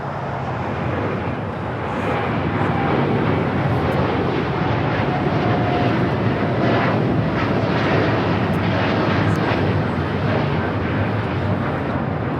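A United heavy passenger jet departing LAX roars loudly and steadily with a broad, sustained engine rumble throughout, close and with no voices over it.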